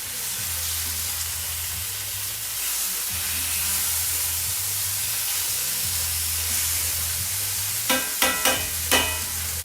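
Chicken breasts sear in a hot pan with a steady, close sizzle, low hum beneath it, and a few sharp clicks or taps near the end.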